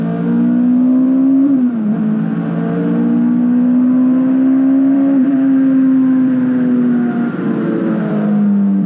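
Supercharged Honda S2000 engine pulling hard and loud from inside the car, a high steady wail climbing through the revs with brief dips at gear changes, and no talk over it.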